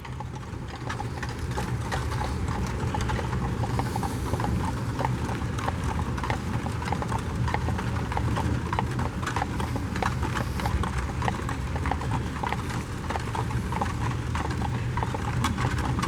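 Horse-drawn carriage on Duke of Gloucester Street in Colonial Williamsburg, its hooves clip-clopping steadily on the road in a continuous rhythmic beat, fairly close, with no talking.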